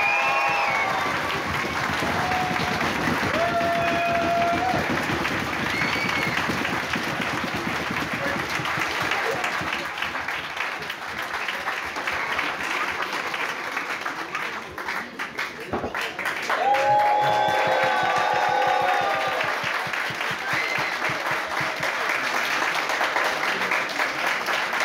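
Applause and crowd noise from an adult costume contest audience fill the whole stretch, steady and dense, with some voices and cheering mixed in and a brief dip near the middle before rising again.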